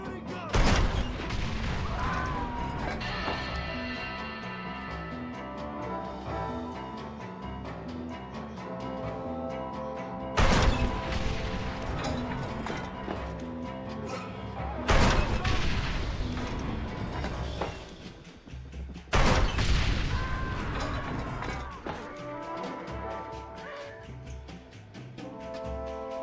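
Heavy gunfire fills a video game battle at El Presidio: steady loud shooting and rumbling combat throughout, punctuated by four big booming bursts, with a voice occasionally heard beneath the din.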